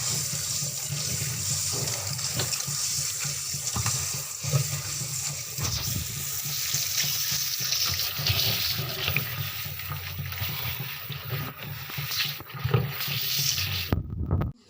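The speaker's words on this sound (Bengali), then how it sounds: "কলের তলায় ফেলে ভালো করে ধুয়ে নেব একদম।" Potatoes are washed under a running kitchen tap: a steady, close gush of water splashes continuously, with occasional shifts as the potatoes are moved in the stream.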